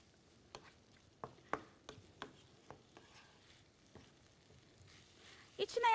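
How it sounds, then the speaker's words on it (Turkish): Food sizzles softly in a frying pan while a utensil stirs it, giving a series of quiet scraping clicks against the pan, a bit louder scraping at the end, no speech. "Karıştırmaya devam."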